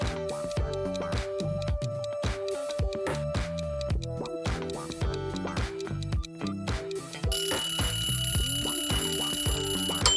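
Countdown timer in an emoji celebrity-guessing quiz, ticking in a steady beat with bright tonal notes, growing louder with a ringing chime layer near the end, no voices.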